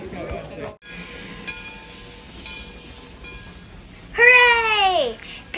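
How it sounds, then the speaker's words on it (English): A steam train pulls into a station at Roaring Camp in the Felton, California redwoods, with a rumbling hiss of rolling cars and a loud whistle blast near the end, amid crowd murmur. "Keretanya sudah datang!"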